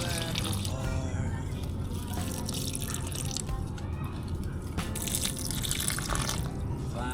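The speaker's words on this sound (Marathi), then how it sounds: "यांना पण पाणी देऊया." Water poured onto potted money plant, snake plant and aloe vera, a continuous close splashing and dripping with faint voice in the background.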